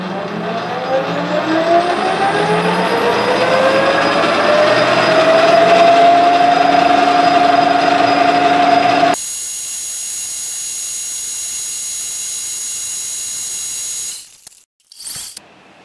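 A lathe drills a 4 mm hole through metal with a number 22 drill: a loud, steady machine whine with a tone that climbs, then a cut to a flat high hum and a few clicks.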